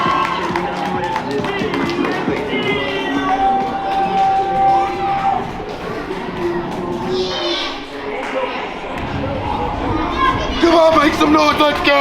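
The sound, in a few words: wrestling crowd cheering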